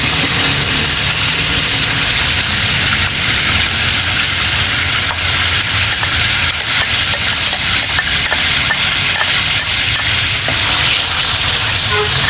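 Garlic sizzles loudly and steadily in hot oil in a pan, sautéed after pork chops for pork steak. The frying is close and continuous with no talk over it.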